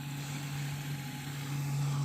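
A drainage pump runs while pumping muddy water out of a freshly dug Abyssinian well, a steady low electric hum with a constant tonal drone, quiet and continuous without talk.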